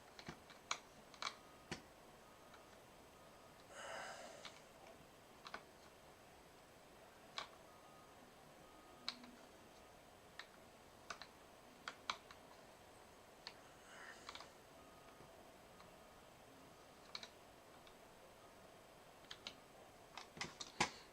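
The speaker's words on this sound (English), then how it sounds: "I'm texting on Discord right now." Computer keyboard typing during a gaming livestream, quiet scattered clicks and short bursts of keystrokes over a low background hum, with no talking.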